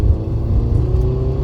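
Porsche 924 engine pulling hard on the road in third gear, a steady loud rumbling drone with a rising whine heard from inside the car.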